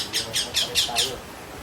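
Pigeons being released for flight just after rain give a quick run of about five bright chirps or wing-flutter bursts, close and fairly faint over a soft background.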